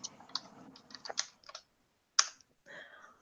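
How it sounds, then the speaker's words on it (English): Quick keystrokes on a computer keyboard come in a short burst of clicks, pause, then resume with a single sharp tap and a few softer presses, close and clear with no talk. "I'm typing over here in the chat"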